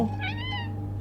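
A single drawn-out cat meow from a horror video game, clear and close, over a steady low electronic hum.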